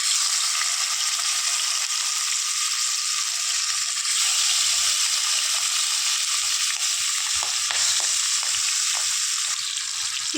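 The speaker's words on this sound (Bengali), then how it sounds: "মাছটা ভাজার জন্য কড়াইয়ে তেল দিয়ে দিয়েছিলাম, তেলটাও গরম হয়ে গেছে। এবার মাছের টুকরোগুলো ভেজে নেব।" Pieces of hilsa fish fry in hot oil in a wok, a continuous bright sizzle with some faint stirring and clinks underneath, steady and close throughout.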